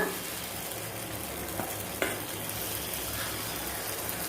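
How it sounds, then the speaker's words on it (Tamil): Batter sizzles steadily in a hot oiled paniyaram pan, a constant close crackle with a couple of soft clicks from the pan partway through. "இதில் வந்து கொஞ்சமாக மாவு எடுத்து ஊற்றிக்கலாம்"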